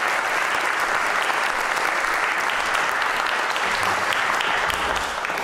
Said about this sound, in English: let's give the panelists a hearty round of applause